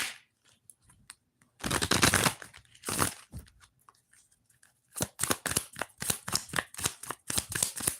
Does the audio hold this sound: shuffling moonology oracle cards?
yes